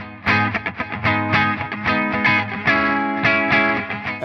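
Electric guitar through the clean channel of a Splawn Quickrod EL34 amp with no pedal, strummed chords in a rhythmic, loud, close pattern with a slightly gritty edge, no voice.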